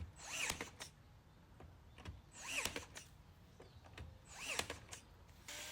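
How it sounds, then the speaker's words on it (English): A brad nailer fires three times into wood on an oak dresser, each a sharp close snap with a brief mechanical whir, spaced about two seconds apart. "go ahead with my brad nailer and secure it"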